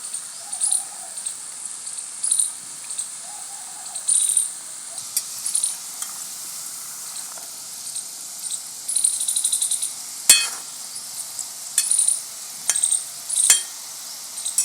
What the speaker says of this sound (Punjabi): ਜਦੋਂ ਚੰਗੀ ਤਰ੍ਹਾਂ ਰੜ ਗਈਆਂ ਫਿਰ ਆਪਾਂ ਕੱਢ ਲਾਂਗੇ